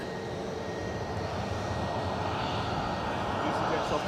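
An EasyJet Airbus A320neo takes off from Edinburgh Airport, its engines a steady, broad roar held at a moderate distance throughout, with people talking over it.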